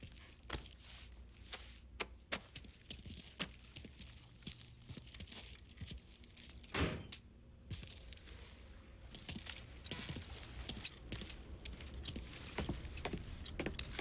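Keys jangle in the Mafia 3 video game, with a distinct rattling burst midway amid scattered clicks and light handling noises, fairly faint and without talk.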